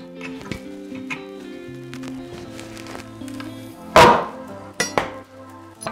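Pulling a nail from old reclaimed wood with a lever, a block of wood padding the surface underneath. A loud sharp creak and snap marks the nail coming free, followed by a couple of smaller knocks, with quiet clinks before it.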